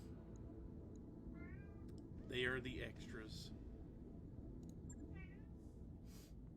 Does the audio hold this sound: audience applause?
no